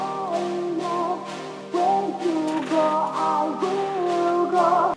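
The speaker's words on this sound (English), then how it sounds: "We have continuous chords that sound like this." Continuous synth chords sustain through a dance remix build-up, a warm pad shifting between chord voicings with a faint steady pulse beneath, even and unbroken for the whole stretch, with no voices.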